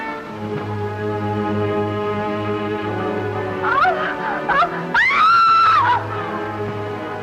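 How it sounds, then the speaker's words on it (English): A woman's high, shrill scream rises out of a steady musical backdrop, in a couple of short bursts followed by one longer sustained cry. "that scream, did you hear it?"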